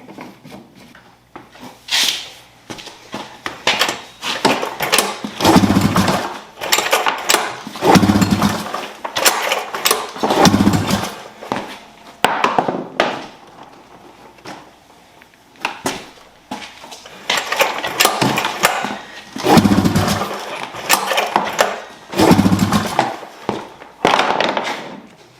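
An Arctic Cat M7 snowmobile engine sputters and catches after starting, revving in uneven bursts with popping, crackling misfires and short lulls between throttle blips.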